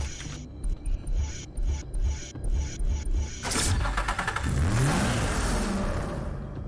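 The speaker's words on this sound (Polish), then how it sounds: "Piękny dźwięk silnika." A Nissan 370Z engine in the video game Need for Speed: Hot Pursuit revs up with a rising whine, loud and close, after a short stretch of clicking and rattling noises.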